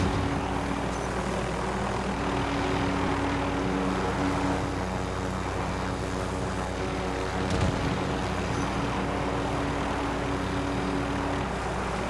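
Steady droning propeller aircraft engine in a video game, loud and close, a continuous hum with a brief thud partway through and no talk.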